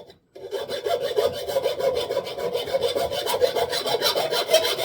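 A metal file rasps a chamfer around the top of an old stationary engine ignitor part, steady close strokes in a continuous scraping run after a brief silence.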